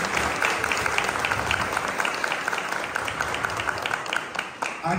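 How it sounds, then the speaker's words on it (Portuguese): A round of audience applause at a gathering, dense and steady clapping that holds for several seconds before tapering off slightly at the end. "dessem uma salva de palmas para vocês"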